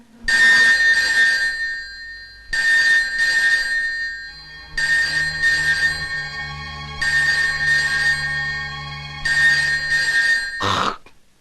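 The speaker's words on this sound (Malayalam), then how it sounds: "ഈ ഫോൺ നിങ്ങൾക്കാവും" A telephone rings in repeated bursts, a bright trilling bell pattern sounding five times with short silent gaps between, loud and close, ending in a brief clatter as it is picked up.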